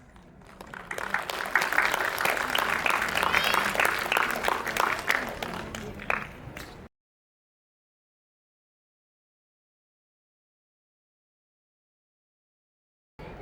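An audience applauds at a school annual function and graduation ceremony, dense steady clapping from a crowd for about seven seconds before cutting off abruptly into silence.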